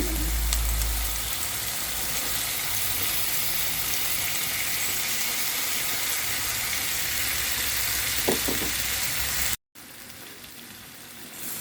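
Melon and chicken stir-frying in a pan, a steady loud sizzle with faint scraping stirs running throughout, briefly cutting out near the end before resuming.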